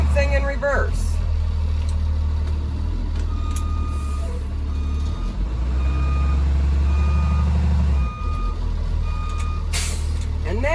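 Reversing beeps from a school bus shifted into reverse during a safe-start check, sounding as a steady beeping pattern over a loud idling diesel engine with an air-brake hiss, while a voice talks throughout.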